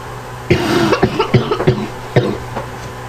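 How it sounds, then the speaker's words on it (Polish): A fit of coughing up close: a series of harsh, rapid coughs in quick bursts, followed by a couple more after a short pause. "Ten kaszel mnie wykończy."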